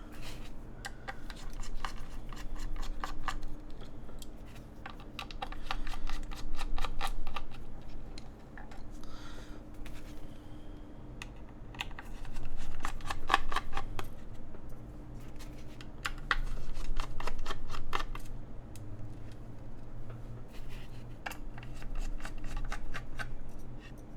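A small Phillips screwdriver works screws out of an ArtKey x AKB AK75 keyboard case, with a long run of close, crisp clicking and scraping ticks in irregular bursts over low background hum.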